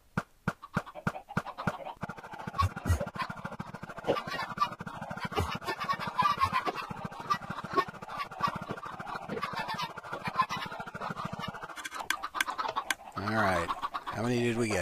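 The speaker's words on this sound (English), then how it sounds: "Our chickens have been breeding." Many chickens cluck and scratch in a video game, a dense, busy flock clamour running steadily, with a brief swell of other noise near the end.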